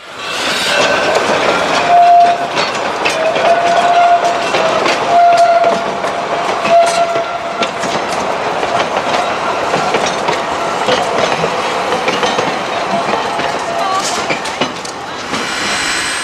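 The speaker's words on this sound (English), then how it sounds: "Engine 6 is a 260 Mogul steam locomotive" A 2-6-0 Mogul steam locomotive built in 1891 pulls a passenger train close by at Old Threshers in Mount Pleasant, Iowa, with rhythmic clattering of wheels on rails and a constant mechanical rumble, loud throughout.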